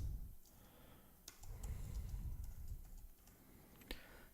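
Keys tapped on a computer keyboard in quick, uneven bursts of soft clicks, close but faint, with small pauses between strokes and no talking.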